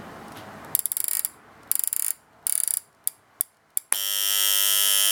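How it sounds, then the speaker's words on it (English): A new old stock Copal SP128 flip alarm clock gives several bursts of ratcheting clicks as it is wound and set, then a loud, steady electronic alarm tone starts and holds to the end. "Let me just set the alarm for you there."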